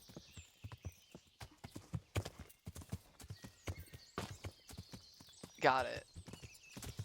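Steady clip-clop of horse hooves in the video game Kingdom Come: Deliverance with a brief whinny partway through, while a person talks briefly over the hoofbeats.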